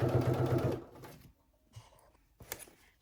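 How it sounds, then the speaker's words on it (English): A sewing machine stitches bias tape binding around a beauty bag in one loud, close burst of under a second, then stops, leaving near silence with a few faint handling clicks. "stitching again very close to that folded edge on your bias tape"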